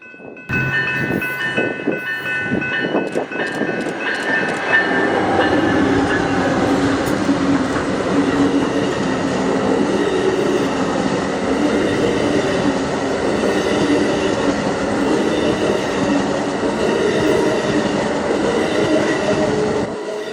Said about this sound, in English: the Amtrak Sunset Limited number 2 coming out of Los Angeles